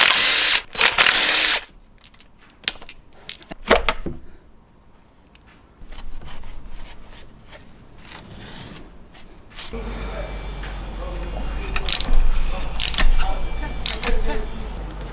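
A ratchet loosens valve cover bolts on a Honda CBR1000RR that is being rebuilt after a crash, making bursts of close mechanical clicking and whirring with pauses between them. A voice talks now and then.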